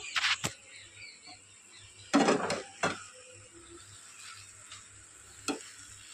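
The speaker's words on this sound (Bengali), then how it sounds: "এবার আমি ভেজে রাখা চিংড়ি মাছগুলো দিয়ে দিলাম, দিয়ে এটা ভালো করে মিক্সড করে দেব" Fried prawns being stirred into taro stem greens frying in a pan, heard as a few scraping clatters of the spoon against the pan over a faint, quiet sizzle.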